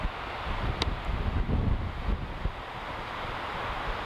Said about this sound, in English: Stiff little wind there, so it is likely to be a bit jiggly.